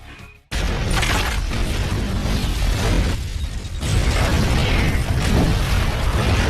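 An explosive charge planted on a wall beside an elevator shaft detonates in the film Colombiana. After near silence, a sudden loud boom erupts into a sustained, heavy roaring rumble that surges again partway through.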